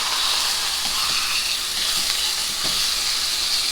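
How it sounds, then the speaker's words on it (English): Steak searing in a tablespoon of oil in a hot pan over medium-high heat, a steady, dense sizzle and crackle with faint stirring or shifting clicks, close and continuous throughout. "heat up your pan and put 1 tablespoon of oil in it. And we're going to sear our steak"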